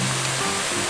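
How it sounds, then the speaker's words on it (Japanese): Waterfall seen along a mountain stream near an auto campsite, a dense continuous roar of rushing water, steady and fairly loud with no breaks in this very short stretch. "滝が見えてきましたね。"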